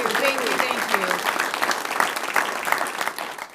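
An audience applauds an author at a Veterans Day visit, a full even roar of clapping lasting throughout, with a voice speaking over it near the start.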